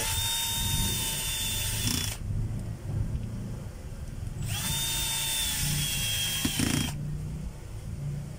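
A cordless screwdriver whines in two sustained high-pitched runs of about two seconds each, separated by a quieter pause with some handling noise, close by.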